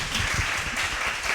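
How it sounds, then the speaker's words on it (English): An audience applauding at the end of a talk, a short, even burst of clapping that fills the moment without pause. "They are clapping for you."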